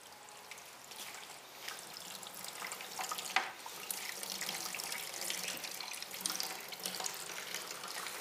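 Beer wort running through a siphon starter during all-grain home brewing, a steady splashing gush of liquid pouring into a vessel, continuous and moderately close.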